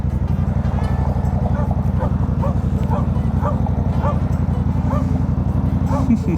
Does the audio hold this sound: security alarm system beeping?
no